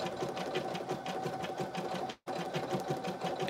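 Embroidery machine stitching an in-the-hoop lip balm holder on vinyl at a slow speed, a steady close rapid needle rhythm with one brief pause near the end.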